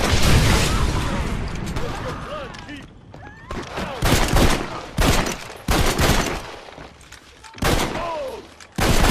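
Repeated bursts of loud gunfire in rapid volleys, separated by brief gaps, with voices shouting between and over the shots.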